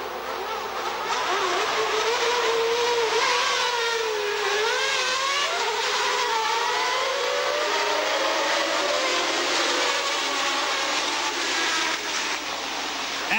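Formula One cars race the first lap of the 1990 Belgian Grand Prix, high engine wails rising and falling as cars sweep past, loud and continuous with overlapping pitches.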